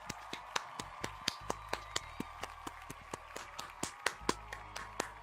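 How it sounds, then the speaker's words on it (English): Steady hand clapping, about a dozen sharp claps at an even, brisk pace over several seconds, fairly faint and close, with a low hum underneath. "I'm still clapping"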